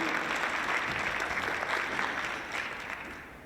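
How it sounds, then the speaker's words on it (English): An audience at a diversity day main-stage event claps continuously, a dense, moderately loud patter that tapers off slightly near the end. "Can you guys give yourselves a round of applause?"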